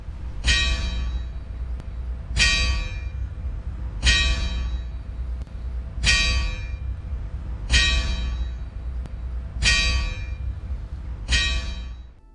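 A church clock bell strikes seven times at a slow, steady pace, each ringing clang decaying before the next over a low background hum.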